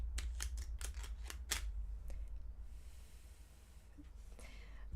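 An old, dusty deck of cards being shuffled, heard as a quick run of sharp riffling snaps up close, followed by quieter rustling and a faint breathy blow.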